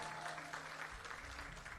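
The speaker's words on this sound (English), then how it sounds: "Put your hands together, please." Brief burst of crowd applause at the Love Jamaica Fest for Vision 2030 Jamaica, a continuous wash of clapping over a low hum, heard in a short snippet.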